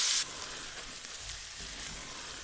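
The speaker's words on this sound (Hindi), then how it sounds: "पाँच से 7 मिनट आप इसको मज़ीद भूनेंगे" Black chickpea curry masala roasting in a pan gives a faint, steady sizzle heard close by, after a brief loud burst at the very start.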